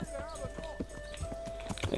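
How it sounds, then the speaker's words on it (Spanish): A horse's hooves clip-clop in the medieval game Kingdom Come: Deliverance, a quick run of close hoofbeats with someone talking over them. "Ven aquí, caballo."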